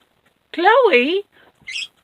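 A dog gives a drawn-out, wavering whine-like vocalization, close and clear, followed by a short squeaky yip in an otherwise quiet space.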